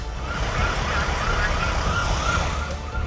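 Fire brigade siren wailing on arrival at a burning workshop where urea in plastic drums fed the flames, a steady rising-and-falling tone over constant loud background rumble, no voices.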